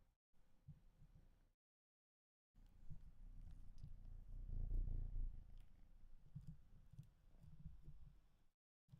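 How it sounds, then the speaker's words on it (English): A cat purring close by, a soft low continuous rumble that swells louder in the middle and continues through the clip, broken by brief silent gaps. "Did you hear that? Did you hear that purring?"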